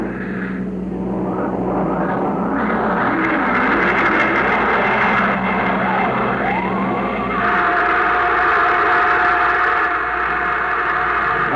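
A rocket's launch blast in a science-fiction radio drama roars as a loud, continuous engine rumble with rising, wavering tones, holding steady and filling the whole stretch without any voices.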